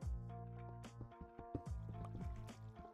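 Water flowing through a cave in the video game Minecraft, a steady watery trickle running beneath a dense layer of game music tones and scattered pick clicks, heard at moderate distance with no voices.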